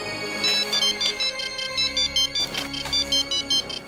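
An incoming call sets off a mobile phone ringtone, a bright repeating electronic melody in short even pulses that carries steadily from start to finish with no talking over it.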